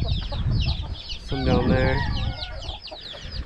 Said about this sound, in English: There's chickens everywhere.